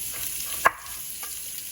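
Peppers and Beyond Meat burgers fry in a pan with a steady close sizzle and crackle, broken by one sharp utensil scrape as the food is stirred, no talking.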